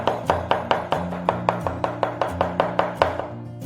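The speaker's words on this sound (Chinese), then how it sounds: "准备一把大蒜，先拍碎，切成蒜末。" A knife mincing crushed garlic on a cutting board gives about fifteen sharp, evenly spaced chops in a quick, steady rhythm, close and clear with no voices.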